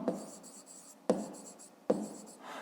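A pen writes in a math exercise notebook in three quick scratchy bursts, each starting with a light tap as the tip meets the paper, close and quiet.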